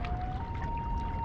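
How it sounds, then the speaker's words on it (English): A common loon calls across a lake on a November afternoon, a single long, steady, faintly rising wail carried over a background wash of water and wind. "That's a loon call that you hear there."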